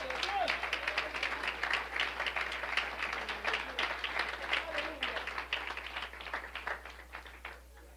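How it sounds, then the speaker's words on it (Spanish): Congregation clapping at a church service, quick rhythmic claps with some voices over them, fairly faint and continuing throughout. "Démosle un aplauso al Señor."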